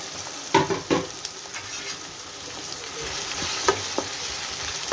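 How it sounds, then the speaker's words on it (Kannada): Bitter gourd pieces added to a hot tempering with softened tomato, frying with a steady sizzle and a few louder stirring clatters near the start and again toward the end, no voices. "ಇವಾಗ ಹಾಗಲಕಾಯಿ ಹೆಚ್ಕೊಂಡಿದ್ದೀನಲ್ಲ ಹಾಗಲಕಾಯಿನ ಹಾಕ್ತಾಯಿದ್ದೀನಿ"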